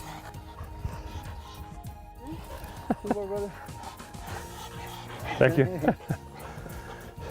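Hunting dogs in Argentina yipping and whimpering in short bursts, a couple of sharp barks near the middle and a louder cluster toward the end, with people talking over the outdoor background.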